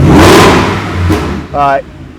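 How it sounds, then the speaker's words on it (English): A 2020 Shelby GT500 with a Shelby-tuned Borla exhaust and black anodized tips revs loudly up close, with a strong opening roar, a second swell, then a short sharp blip near the end. "it is a Shelby tuned Borla exhaust with the black anodized tips on it"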